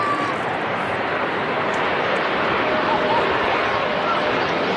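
An Air Canada Airbus A330-300 airliner at Manchester Airport, a loud, steady broadband jet roar that holds throughout.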